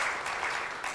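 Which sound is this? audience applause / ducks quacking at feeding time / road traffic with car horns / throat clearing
audience applause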